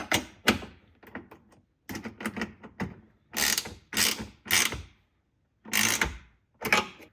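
A 12mm ratchet tightens a nut while installing underhood LED lighting on a 2021+ Yukon/Tahoe/Suburban, giving close, distinct bursts of rapid clicking separated by short silent pauses.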